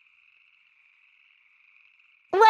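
A red-eyed tree frog gives a single short, loud croak at the very end, preceded by a faint steady high-pitched tone in otherwise near silence.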